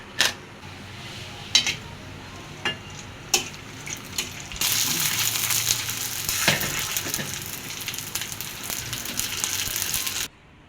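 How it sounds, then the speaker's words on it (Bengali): Bhelpuri frying in oil in a wok (kadai): a few sharp taps at first, then a sudden loud, steady hiss of sizzling oil that runs for about six seconds before cutting off abruptly. "রেডি যে বেলপুরিগুলা সেগুলো আমি ভেজে নেব।"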